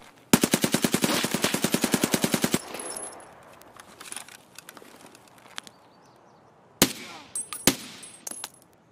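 A suppressed UMP fires a rapid burst of about twenty muffled shots in Escape From Tarkov, then falls quiet before two more sharp single reports near the end, with soft ambient game noise between.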